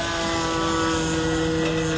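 An RC model airplane powered by a DA50cc gas engine drones steadily at a club flying field, a constant buzzing hum with strong tonal whine, continuous and fairly loud throughout.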